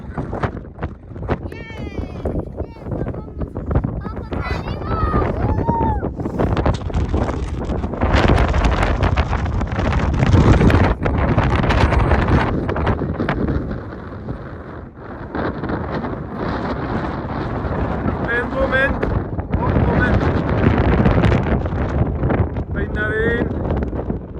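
Wind roars and buffets the microphone on the summit of Beinn Ime, the highest Munro in the Arrochar Alps. The gusts stay loud and continuous while voices speak intermittently over them.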